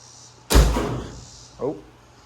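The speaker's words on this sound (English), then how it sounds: "it latched the hood when I closed the door" A car door slams shut with a loud, close thud, followed about a second later by a shorter, softer clunk as the hood latches during crankshaft position sensor replacement work.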